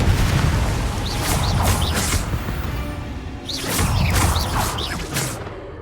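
Explosive blasting spell cast in a fantasy wizarding game, two clusters of three whooshing bursts with sharp rising zips and booming impacts, separated by a brief lull, fairly loud with no talk.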